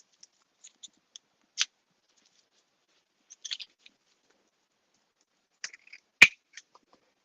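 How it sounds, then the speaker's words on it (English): Scissors snip through paper while a wreath is being crafted, producing sparse, quiet clicks and cuts scattered across the moment, with a sharper snip near the end and no talking. "let me get some better scissors because these scissors are crap."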